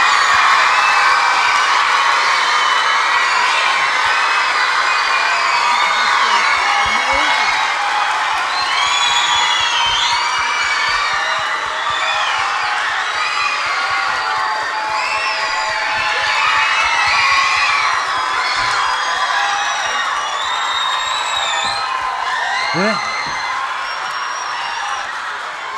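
A large festival crowd cheering, whooping and applauding in a long, loud, sustained roar, with high shouts and whistles rising above the clapping throughout.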